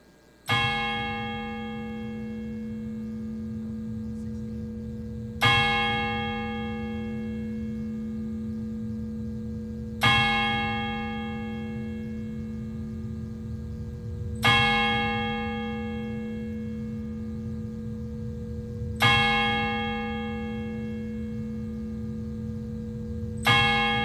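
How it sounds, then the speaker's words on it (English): The Stevens Hall bell tolls at a university commencement, with five loud, resonant strikes about five seconds apart, each ringing out over a steady hum. "the Stevens Hall bell will toll 16 times in honor of the university's first graduating class"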